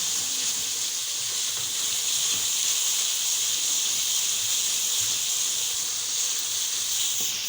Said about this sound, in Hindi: टमाटरों की भुनाई करनी है वो आप लोगों ने तेज़ आंच पे करनी है